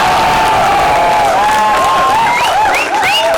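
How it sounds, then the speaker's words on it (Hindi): Crowd at a Hindi comic poetry gathering at Ramjas College, Delhi claps loudly and continuously with cheering, with whistling or shouted voices rising over the applause. "अब आप एक बार जोरदार तालियां"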